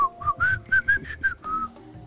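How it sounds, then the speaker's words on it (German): A cartoon steak character named Charlie in a mobile app game whistles a quick run of bright, separate notes, close and clear over a faint low background hum. "du kannst pfeifen? Kann ich auch"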